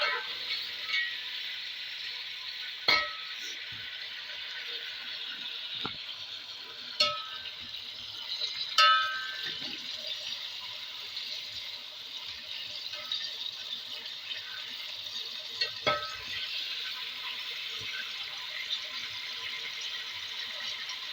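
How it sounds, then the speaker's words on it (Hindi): Chicken frying in a pan for chicken pulao, a soft steady sizzle with occasional clinks and scrapes of a spoon stirring against the pan, close and without talk. "चिकन को अच्छी तरह भूनेंगे यहाँ पे।"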